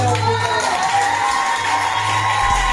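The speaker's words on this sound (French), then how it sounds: "tout le monde crie, tout le monde applaudit, tout le monde est joyeux" A crowd cheers, shouts and applauds in a rap music video, a dense, steady roar of voices and clapping that fills the whole stretch at close range.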